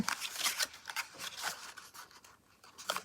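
Paper being folded and creased for an envelope punch board box, a series of crisp rustling scrapes and swishes repeating irregularly, close and fairly quiet, with no talk.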